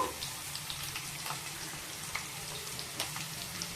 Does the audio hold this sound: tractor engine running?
no